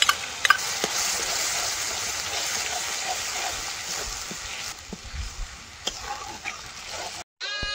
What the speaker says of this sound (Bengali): এবার টক দই দিয়ে মশলাটা ভালো করে কষিয়ে নেব।